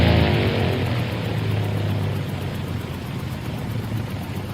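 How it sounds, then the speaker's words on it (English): A steady engine drone, loud and continuous with a strong low hum, runs throughout and gradually eases slightly in level, with no voices present. "Holy smokes, the engine just cut out."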